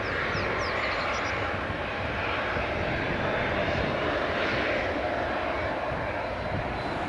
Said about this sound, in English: The Jet2 737-800 taxiing out as well.